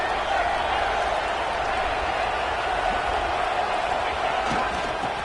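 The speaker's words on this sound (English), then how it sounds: "this big crowd doing everything possible to inspire this defense down here near the goal line" A large stadium crowd in the College Football 25 video game roars steadily near the goal line, a dense continuous wash of cheering that holds at an even level with no pauses.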